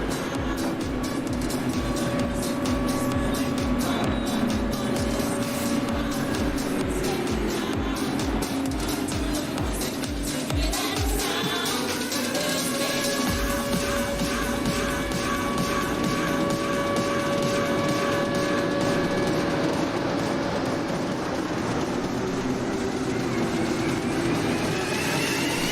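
Engines of several NASCAR Craftsman Truck Series race trucks drone together at low speed behind a pace car at Daytona in iRacing, a steady pack hum that shifts in pitch as they roll along.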